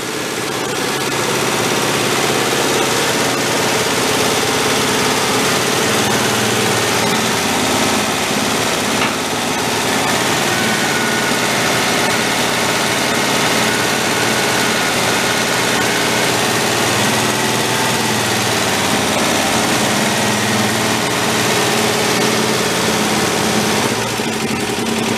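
A broken Volkswagen tractor engine idles steadily and loudly, a dense continuous drone with constant vibration running the whole time and no voices.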